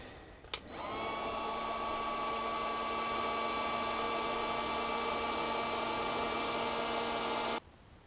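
A heat gun blows on heat shrink tubing sealed over a motorcycle stator wire during a generator repair, giving a steady, loud hissing roar that lasts about seven seconds after a click and stops abruptly.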